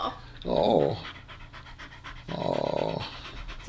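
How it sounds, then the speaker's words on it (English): A female dog at an animal shelter pants heavily in two close, rhythmic bursts, with a person speaking softly between them. "You're a good-looking dog."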